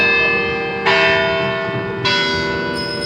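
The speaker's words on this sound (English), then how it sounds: "I inspire some church bells here." Church bells ring outside the US Capitol at an outdoor rally, loud and resonant, with fresh strikes landing every second or so over lingering ringing tones.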